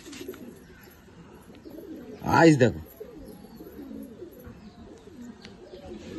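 A single short, loud pigeon coo rises close up amid a fancier's loft of show pigeons, with a person speaking briefly and quiet background murmur before and after.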